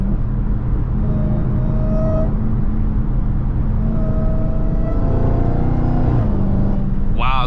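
A Dodge Charger Hellcat pulls hard on a highway, its loud engine droning under a rising supercharger whine heard from inside the car, with a shift partway through and a sharp rising tone at the end.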